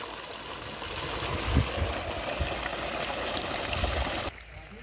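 Water gushes steadily from the outlet of a 3 hp solar BLDC submersible pump through a 2.5 inch line, a continuous loud rushing flow that cuts off abruptly near the end.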